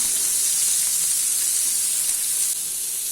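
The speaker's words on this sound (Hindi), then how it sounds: "अभी इसमें फाइनली चॉप किया हुआ ऑनियन ऐड कर लेना है और मिक्स कर लेना है।" Finely chopped onion sizzling in a hot pan on high flame for egg tawa masala, a steady bright hiss that runs continuously and close, easing slightly near the end.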